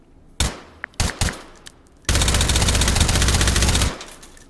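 Suppressed M4 rifle firing in the game Hot Dogs, Horseshoes and Hand Grenades: a few single muffled shots, then a loud sustained automatic burst of about two seconds, close and alone.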